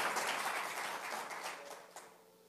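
A church congregation applauds, a burst of dense clapping that starts moderately loud and gradually fades away over a couple of seconds, with no talk over it.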